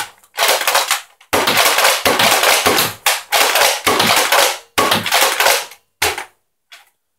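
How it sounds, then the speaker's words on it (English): A toy foam dart blaster fires a string of about six darts, each a loud, close, noisy burst of roughly half a second, separated by brief silences, with a fainter final shot. "We're going to shoot 6 darts out of here."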